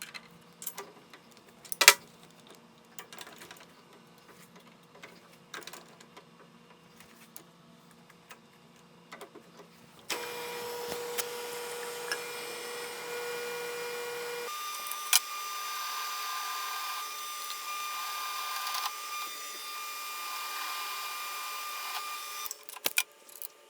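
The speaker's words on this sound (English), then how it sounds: "We have to drill a 1/4" hole through these two top pieces of this plate to allow for the fulcrum bolt." A milling machine drills a quarter-inch hole through steel plate for the fulcrum bolt of a 2x72 belt grinder. Scattered light ticks give way to a steady, loud mechanical whir that shifts in tone partway through and continues to the end.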